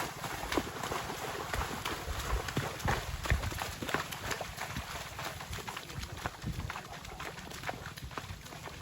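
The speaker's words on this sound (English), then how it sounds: "suddenly 3 horses with 3 amazing people riding the horses turn up" Three horses carrying riders walk along an outdoor track, hooves clip-clopping in a steady, fairly quiet rhythm against a constant background hiss.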